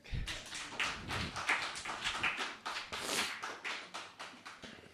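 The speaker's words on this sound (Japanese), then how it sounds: "はい、拍手。" Light applause from a small audience at a live music event, scattered claps in uneven bursts, fairly close and moderately quiet.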